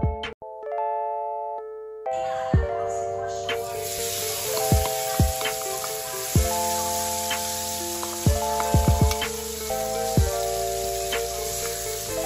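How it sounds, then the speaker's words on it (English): Kimchi sautés in oil in a pan for fried rice made with leftover rice, a steady sizzle under a droning musical backing, with scattered clinks and stirring taps. "Enough oil to saute the kimchi."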